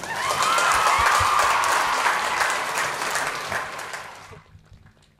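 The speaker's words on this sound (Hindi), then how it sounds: "तो इन सातों फाइनलिस्ट हुनरबाजों के लिए जोरदार तालियां।" A talent-show audience applauds the finalists at a semi-final stage event, loud sustained clapping from a large crowd that carries on steadily for several seconds before fading out.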